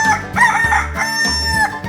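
A chicken crows and clucks in a 3D animal video game, a string of loud, close calls layered over bouncy game music.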